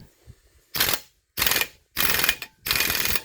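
A ball joint press is cranked on a Ford king-pin type front axle in four loud, close ratcheting bursts, each a dense clicking rattle lasting about a quarter second, separated by brief pauses.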